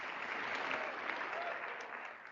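A crowd applauds at a stand-up comedy show, a dense, even wash of clapping that holds steady throughout and tapers slightly at the end.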